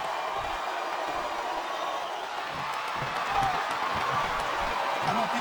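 Arena crowd in WWE SmackDown vs Raw 2007 at a Stone Cold vs The Rock vs Mankind championship match, a continuous distant roar of cheering that swells slightly toward the end.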